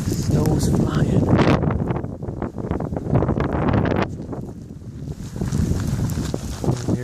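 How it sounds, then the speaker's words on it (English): A snow blizzard's wind buffets and roars outdoors in gusty rushes, loud and close, with a voice talking over it. "a blizzardy little day outside. Wind's blowing."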